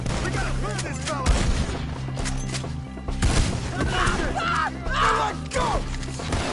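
Gunfire from a Red Dead Redemption 2 shootout: scattered shots and cracks under shouted game dialogue and music, with a few louder bangs standing out.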